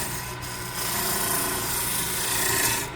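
A rasp files a wooden handle on a lathe, rounding the bottom half: a steady, close rasping scrape running for a few seconds without pause, broad and gritty, with no voices.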